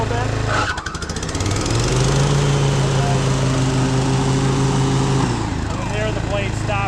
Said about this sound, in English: So safety lock, you'll kind of hear the blades or the belt chirp a little bit.